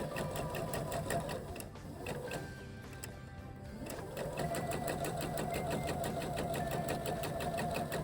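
A sewing machine stitches a fabric seam on an Easter bunny treat holder with a fast, steady mechanical whir and rapid needle ticking, close and continuous apart from a brief slowdown near the middle, with no talking.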